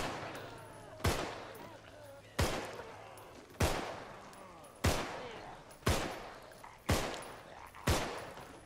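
Single gunshots ring out in the zombie survival game Contagion, about eight loud cracks spaced roughly a second apart, each fading into a short echoing tail.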